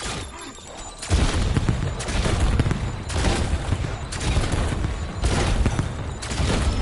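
NX Ravager bow gun fires in Call of Duty Black Ops zombies, loud bursts of shots and explosions repeating in rough waves about once a second, dense and close.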